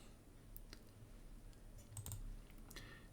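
Faint, sparse clicks from a computer mouse or keyboard at a desk, a handful of short taps scattered over a quiet background.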